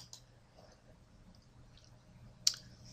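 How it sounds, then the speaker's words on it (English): A single crisp computer mouse click sounds sharply near the end of an otherwise quiet stretch, close and isolated, with faint room noise and a small tick early on. "So I'll click Title Style."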